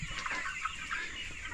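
Seven-week-old improved Kienyeji chickens cluck and chirp as a flock, a steady, moderately loud chatter of overlapping calls with no talk.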